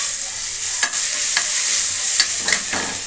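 Ginger garlic paste sizzles in hot oil in a pan while being stirred for chicken biryani, giving a steady close frying hiss with several sharp scraping strokes.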